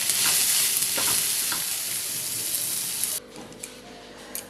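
A cauliflower and tomato mash seasoned with Kashmiri chilli powder and black salt fries in a pan, giving a loud, steady sizzle with stirring scrapes that drops off sharply near the end.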